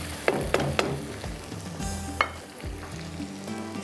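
Onions frying with turmeric, salt and ginger-garlic paste in a pan for mango and garlic pickle, with a few sharp scraping knocks of a spoon stirring over a soft, steady sizzle.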